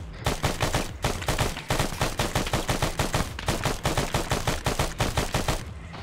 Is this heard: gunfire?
yes